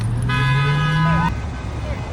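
A campaign bus for Trump sounds a long, loud, slightly rising horn blast as it drives past amid a crowd and traffic, the tone cutting off abruptly and leaving road rumble behind.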